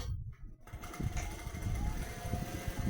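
Sewing machine stitching a churidar at a tailor's, a steady, fast mechanical whirr with a rhythmic needle chatter that starts after a brief pause and runs on at close range.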